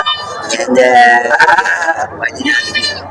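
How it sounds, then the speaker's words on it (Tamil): Sheep bleating up close at the Ranipet goat market, several wavering loud bleats in quick succession with brief gaps between them. "எல்லாம் செம்மறி தான். செம்மறி ஆடு தான் இருக்கு."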